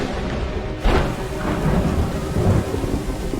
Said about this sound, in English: That is a brutal storm.